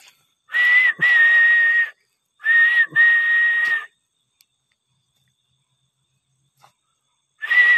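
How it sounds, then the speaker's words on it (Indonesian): Two long, steady whistled tones from a person in a pine forest at night, each about a second and a half with a brief break, then a pause of silence before another whistle begins; loud and close, with no talk. "coba saya siulin lagi"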